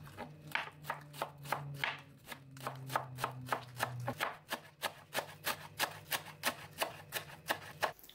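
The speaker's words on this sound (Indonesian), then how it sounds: "Dua batang daun bawang, kemudian dipotong-potong kecil seperti ini." Two stalks of spring onion are chopped into small pieces with a knife on a board, giving steady, close, evenly paced crisp chops with a faint low hum underneath.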